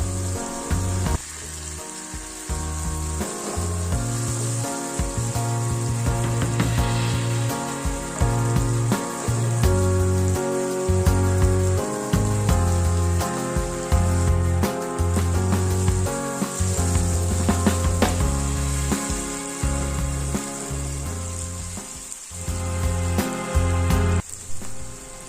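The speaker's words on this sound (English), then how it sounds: "in the roughly blended peppers and onions. I'll stir that around and allow it fry very well." Roughly blended peppers and onions fry in a pan with a steady, close sizzle that runs unbroken for the whole stretch, and faint stirring scrapes come and go beneath it.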